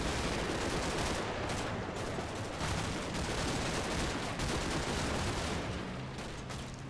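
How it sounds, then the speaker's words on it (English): Dense, continuous gunfire from a World War II tactical game set in Normandy, with overlapping rifle and machine-gun bursts forming a steady loud crackle with no talking. "And we'll just take pot shots at those retreating."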